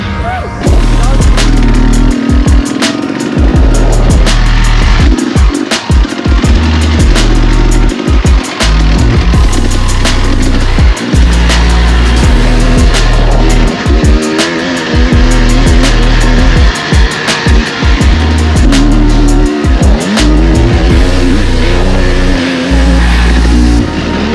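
A car driven hard on a fast timed prologue lap at Valleys Xtreme 2022 in Wales, engine loud and continuous throughout with shifting revs and repeated gear changes, heard close from inside or near the vehicle.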